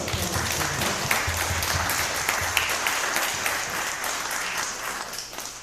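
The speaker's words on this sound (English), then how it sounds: "Yes, clap it up. Clap it up." At a Cleveland tech mixer a crowd claps and applauds in a busy, sustained burst of many hands, loud and even before tapering slightly at the end.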